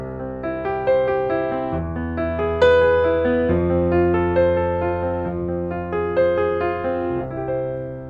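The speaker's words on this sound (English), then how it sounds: "I'm just arpeggiating the chord from the bottom to the top and back down" Sustained piano chords played with notes rolled from low to high and back down in a flowing, even pattern, with clear bass notes shifting every couple of seconds.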